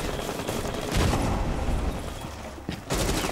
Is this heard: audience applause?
no